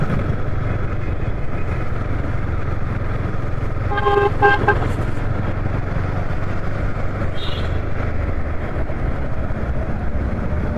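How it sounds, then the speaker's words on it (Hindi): Delhi city traffic at night near Green Park, a steady loud rumble of passing cars and motorcycles with a horn blaring around the middle and another brief toot later, no talk. "टाइम काफ़ी हो चुका है, फिर भी ट्रैफिक बराबर चल रहा है।"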